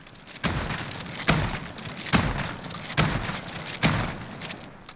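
A Remington TAC-14 shotgun in Call of Duty Modern Warfare fires five loud booming shots in quick, fairly even succession, each blast ringing briefly over a low background.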